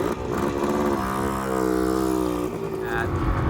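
A Yamaha XT225 two-stroke motorcycle engine idling and revving unevenly close by, a buzzy rattling drone that rises and falls, with a voice faintly underneath.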